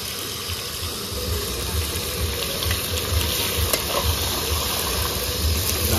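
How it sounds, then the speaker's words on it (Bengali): Chicken pieces for a village-style Jamai Kudu chicken dish cooking in hot oil in a wok: a loud, dense, continuous sizzle and hiss with stirring, close and steady throughout. "এবার মাংসটা ঢেলে দেবো কড়াইতে।"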